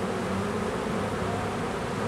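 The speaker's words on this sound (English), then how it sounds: "By the time I finish this, I'll be covered with bees." A large mass of honeybees, up to around 120,000, swarms over a beekeeper's body, filling the air with a dense, continuous, steady buzzing that stays close and even throughout without any voices.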